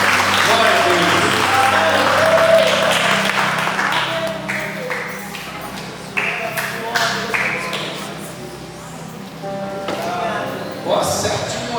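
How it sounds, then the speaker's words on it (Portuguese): A church congregation claps in a sustained wash of applause, loud at first and then fading and swelling, while a voice talks over it. "Vamos aplaudir ao Senhor"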